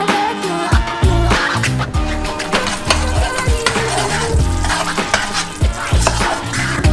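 Caramel cooking in two saucepans on a stove, a double portion, with a steady bubbling sizzle and repeated stirring and scraping of utensils against the pans, loud and close throughout with no talk.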